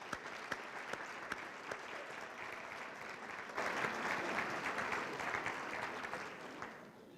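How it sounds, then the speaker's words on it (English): An audience at a chamber of commerce annual meeting applauds steadily. The clapping is sustained and swells louder midway before tapering off slightly at the end. "please give them a round of applause."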